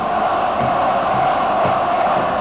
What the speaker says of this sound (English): The crowd now responding to the loudspeaker appeal to leave the pitch.